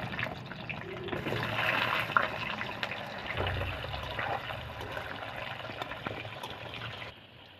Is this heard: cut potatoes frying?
yes